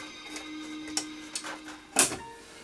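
An old 1981 CB power supply is switched on, giving a few sharp clicks and ticks with a brief louder snap near the end, close up over a faint steady hum.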